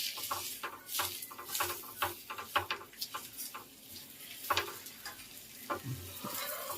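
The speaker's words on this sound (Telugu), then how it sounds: "ఆయిల్ హీట్ అయింది. ఇప్పుడు చపాతీ వేసేసుకుందాము." A chapati laid into hot oil in a pan gives off a quiet, steady sizzle, broken by frequent small crackles and pops.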